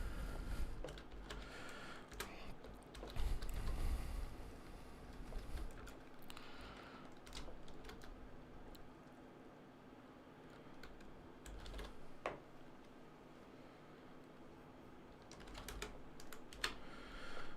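Typing on a computer keyboard, with bursts of quick, soft key clicks separated by short pauses, close but quiet, with no talk.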